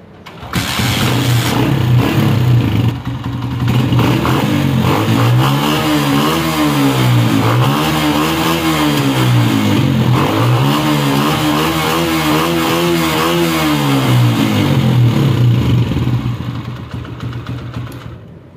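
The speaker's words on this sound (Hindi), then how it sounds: "अब हम मोटरसाइकिल को करते हैं स्टार्ट।" A Honda CG 125 motorcycle engine starts and runs after a spark plug fix for a misfire, a loud, close, steady mid-pitched chug with a few rev swells in the middle before fading out at the end.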